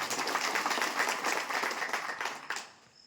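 A rally crowd in Indapur, Pune district, claps loudly and densely for AIPS national president Deepakbhai Kedar, a sustained wash of applause that fades away at the end.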